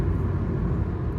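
A Hyundai i20 N Line with a manual gearbox accelerates hard, its engine giving a steady, close, low rumbling drone that holds level throughout with no voices.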